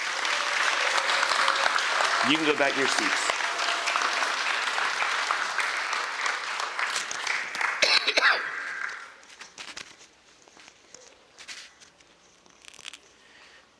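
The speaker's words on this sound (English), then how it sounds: "Let's give these kids a round of applause" A church congregation applauds a group of children, dense clapping that runs strongly for several seconds before thinning out and dying away, after which a voice speaks over faint rustling.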